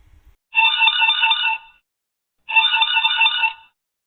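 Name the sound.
telephone ringing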